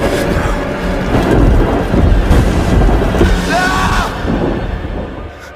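Heavy rain and rumbling thunder from a Spartacus film scene form a loud, continuous roar of wind and downpour, with a brief higher whine near the end.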